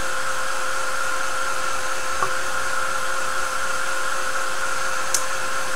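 A hair dryer blows steadily to dry a mixed media scrapbook layout, a continuous close whirring hum that holds unchanged throughout with no talking.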